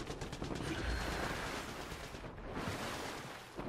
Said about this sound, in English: There's a lot of people shooting each other over here.